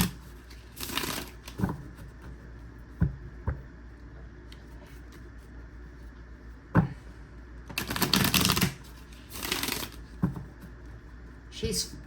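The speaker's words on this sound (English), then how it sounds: "I see other people shuffle. I don't know what's so fascinating about my shuffling" A haunted house themed tarot deck is shuffled by hand in several separate bursts of crisp card riffling and slapping, close and loud, with quiet gaps between them and a voice talking at times.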